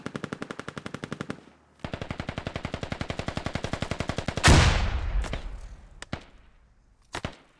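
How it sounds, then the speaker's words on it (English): Sustained automatic gunfire in the military shooter game Squad, a long rapid rattle of shots, a brief pause, then another extended burst ending in a heavy blast and a few scattered single cracks. "What are we shooting at?"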